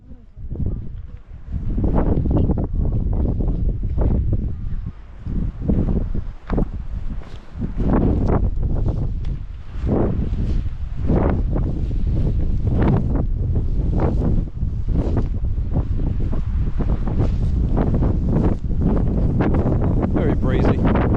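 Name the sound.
wind blowing outdoors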